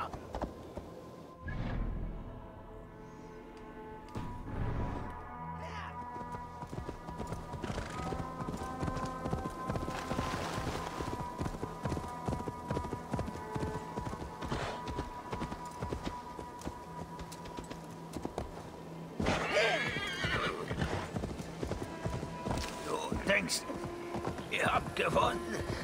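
In Assassin's Creed Valhalla, a horse's hooves clip-clop steadily and close, with occasional snorts and neighs, over soft ambient rain and game sounds, while a voice talks at times.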